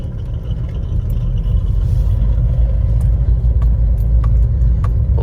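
Car engine noise overlaid with an app-generated Ferrari engine sound, a loud, steady, deep rumble that holds level throughout, with no voices.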